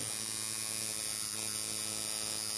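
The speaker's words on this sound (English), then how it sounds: "hits the foot pedal, the motion of the needle moving back and forth" Steady electric buzz of a tattoo machine as its needles drive back and forth into skin, laying down and saturating ink; a continuous, even drone held close throughout with no talking.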